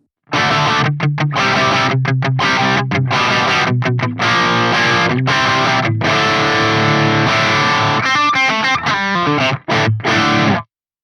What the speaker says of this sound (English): So I'm going to set this toggle switch to the flat mode, and here's how that sounds.